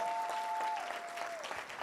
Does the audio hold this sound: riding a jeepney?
no